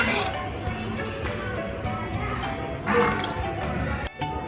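Water is poured in small amounts into potato puri bhajiya batter, giving soft drips and liquid sloshing with faint clinks of a bowl, all under a busy background.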